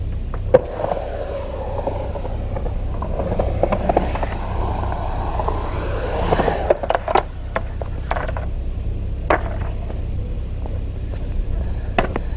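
A skateboard stalls on the coping of a bowl, with wheels rolling and rumbling up the transition, then sharp clacks and scrapes of the board against the metal edge, close and fairly loud.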